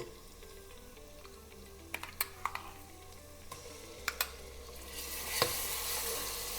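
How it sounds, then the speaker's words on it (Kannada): Ginger garlic paste fries for mutton biryani in a pan, a steady faint sizzle broken by a few sharp ticks and clinks from a spoon, the hiss rising louder near the end. "ಜಿಂಜರ್ ಗಾರ್ಲಿಕ್ ಸ್ಮೆಲ್ಲು ಹೋಗಲಿ ಅಲ್ಲಿವರೆಗೂ ಫ್ರೈ ಮಾಡಿ ಚೆನ್ನಾಗಿ"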